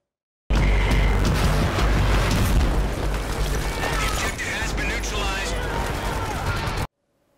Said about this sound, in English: it looks as though we have some sort of AA gun firing at these jets